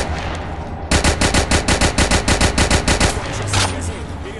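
Rapid automatic rifle fire from a World War Heroes shooter game on Android, a loud burst of about fifteen evenly spaced shots lasting over two seconds, with a lingering echo and quieter noise afterward.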